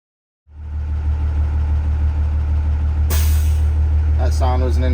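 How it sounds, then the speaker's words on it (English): A bus air brake governor cuts out during a pre-trip inspection with an idling diesel engine running, then a sharp loud burst of air hisses out, and someone talks over the engine rumble. "That sound was an indication of our governor shutting off."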